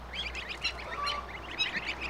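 Short honking goose calls repeat in quick bursts, moderately close, over a steady low hum of background noise.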